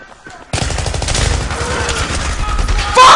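Rapid bursts of automatic gunfire from the video game Battlefield 3 start abruptly and keep going as a dense, loud volley, with a louder burst at the end and a voice faintly heard in the background.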